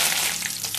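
Curry leaves hit hot oil with mustard seeds for a tempering of rassa, erupting in a loud, dense crackling sizzle that fills the short moment close up.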